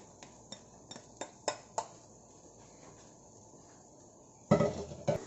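A spoon scrapes and taps leftover spicy mackerel sauce out of its container, a row of sharp metallic clinks at a steady beat, then a pause and a louder burst of clattering and scraping.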